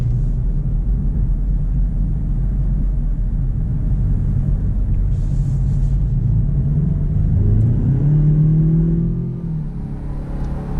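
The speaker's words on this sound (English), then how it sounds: "just get a little bit of an acceleration with the 2019 Ranger." A 2019 Ford Ranger pickup's engine drones and rumbles steadily inside the cab, then the revs climb and shift as it accelerates onto an interstate, loud and continuous.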